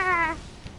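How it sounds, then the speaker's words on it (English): A short, clear cat meow rings out in a video game, a single rising-falling cry lasting under half a second before fading into low background noise. "Nah, that sounds like a cat."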